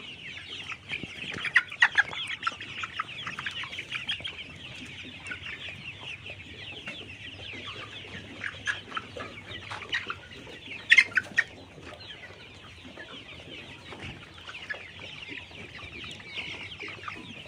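Several laying hens cluck and chatter continuously at close range on a poultry farm, with scattered louder squawks over a low steady hum.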